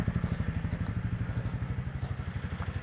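A Honda CRF300 Rally motorcycle with its stock exhaust, engine held at full throttle near 10,000 RPM, giving a steady, loud, pulsing drone close by with a rapid rhythmic beat throughout.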